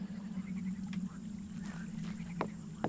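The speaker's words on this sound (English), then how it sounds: "Frogs." Frogs croak in a video game setting, a faint, soft scene with a low steady hum and a few brief croaks and clicks scattered across it.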